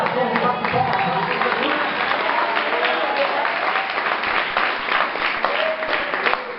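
Worshippers in a church clap their hands together in a continuous, even wash of applause that runs the whole time, with voices faintly mixed in beneath the clapping.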